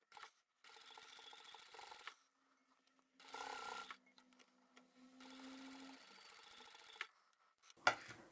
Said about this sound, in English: I'm going to start with a back stitch, and I'm only using a 1/4 inch seam